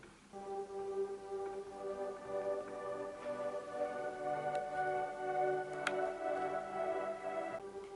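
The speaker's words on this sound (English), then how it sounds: "And then we have these pads, which I will play separately." A soft, sustained synth pad preset, Deep Space Diva, holds layered chords, swelling gently with a faint airy shimmer, played alone without voices.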